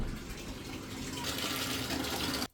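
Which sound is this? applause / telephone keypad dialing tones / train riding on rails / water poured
water poured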